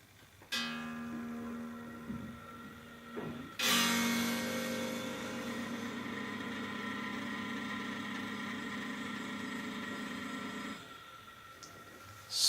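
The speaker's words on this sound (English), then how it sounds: "And this is the noise of the Suhr Reactive Load." Fan of a Suhr Reactive Load running with a guitar amp: after a few clicks, a steady close whirring hiss with a faint low hum sets in, jumps louder, holds for several seconds, then drops away.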